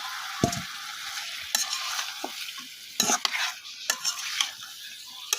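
Fish heads and potatoes sizzle in a pan with spices while a utensil stirs and scrapes, producing sharp intermittent clanks and bursts over a steady frying hiss, close and fairly loud.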